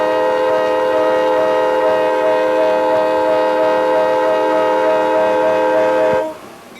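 A CSX freight train hauled by GE diesel locomotives sounds its horn in one long, loud, sustained blast over the rumble of the passing train, then the horn cuts off.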